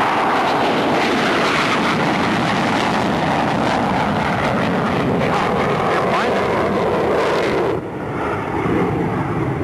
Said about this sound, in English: about 100 feet off the deck with afterburner